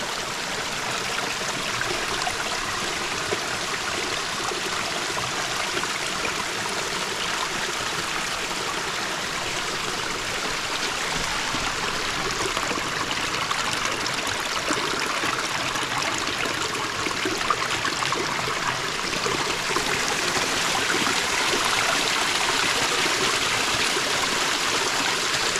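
A shallow, crystal-clear river stream running low after a dry spell, a steady close-up babble and trickle of water over stones, continuous and fairly loud with no voices.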